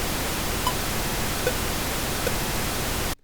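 Steady pink noise test signal from a rap mixing session, a continuous broadband hiss at constant level that cuts off abruptly near the end.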